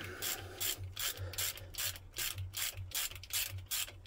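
A ratchet wrench tightens a loose bolt aboard a narrowboat, its pawl clicking in quick, even bursts that repeat stroke after stroke, close and clear with no talking.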